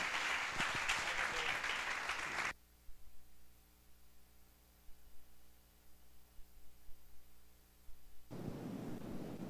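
A church congregation applauds during an evening service: a dense burst of clapping for the first couple of seconds, then a long near-silent stretch with a low hum, before the clapping swells back in at the end.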